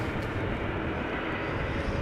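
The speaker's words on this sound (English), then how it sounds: "Also hearing the engines being started over there of," Jet engines of a United Boeing 777 spooling up at Amsterdam Schiphol Airport on a drizzly day, a steady broad roar holding at constant loudness throughout, with no talk.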